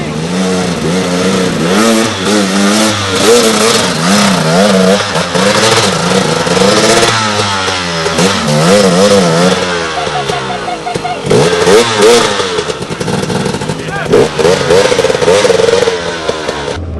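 Rally motorcycles race in a cross country championship, engines revving hard and wavering in pitch as they accelerate and shift, loud and close, with voices audible over the roar.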